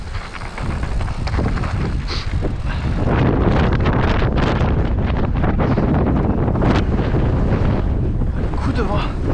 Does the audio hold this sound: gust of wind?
yes